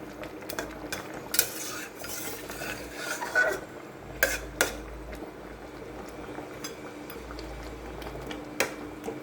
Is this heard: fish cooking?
yes